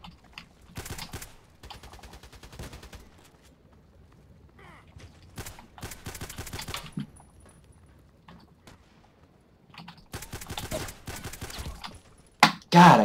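Shotgun fire in the video game Contact Wars, heard as sharp bursts of blasts in scattered clusters, with a loud close pair of shots at the end.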